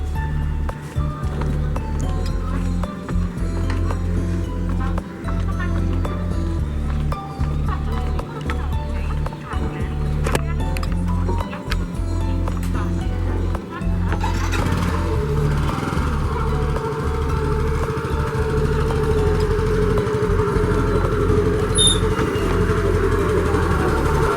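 Passenger launch on the Ganges leaving the bank, its engine a loud, constant low throbbing drone that continues throughout, with a rougher, broader wash of noise joining partway as the boat gets under way.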